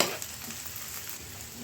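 Onions sautéing in a pan give off a brief, steady, fairly quiet sizzle close by, with no voices.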